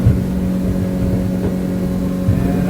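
A Hewes 180 boat's outboard motor drones steadily at cruising speed on the water, a loud, continuous engine hum with a low throbbing rumble and no voices.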